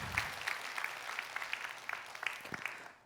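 Church congregation at a Wednesday worship service in Korea clapping for a departing short-term mission team, a scattered, moderately quiet round of applause that thins out and fades by the end.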